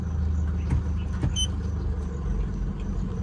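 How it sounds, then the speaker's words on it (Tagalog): A passing vehicle's low rumble swells and fades at moderate distance along a road near a beach campsite in Calatagan, Philippines, heard from inside a camper van, with no talk. "May sasakyan pala."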